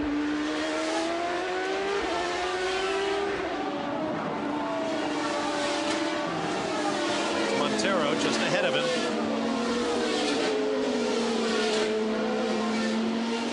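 Onboard a 2003 Champ Car at Brands Hatch, the Ford Cosworth engine screams loudly and continuously, its pitch rising and falling through upshifts and downshifts while a commentator talks over the engine noise.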